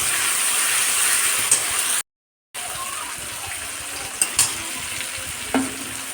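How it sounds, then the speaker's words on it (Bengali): Onion, tomato and nigella seeds fry in oil with a steady hiss that cuts out briefly in the middle, broken by a few faint clicks of a utensil. No voices are heard. "এখন একটু কালো জিরে দিয়ে দেবো দিয়ে টমেটো পেঁয়াজ আর কালো জিরের সাথে ভালো করে ভেজে নেবো"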